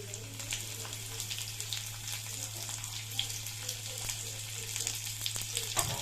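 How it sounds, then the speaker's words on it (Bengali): Whole cumin, garlic, dried chilli and chopped onion fry in a small pan as a tempering for spinach dal, a constant close sizzle with a low steady hum beneath and occasional light clicks. "সেই প্যানের মধ্যে আমি গোটা জিরে, রসুন, শুকনো লঙ্কা আর কুচনো পেঁয়াজ দিয়ে ভালো করে একটু ভেজে নেব।"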